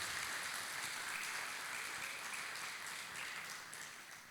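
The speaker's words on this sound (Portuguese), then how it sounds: "Você pode aplaudir Jesus?" Faint, steady applause from a church congregation, a dense wash of clapping that holds evenly before tapering off slightly at the end.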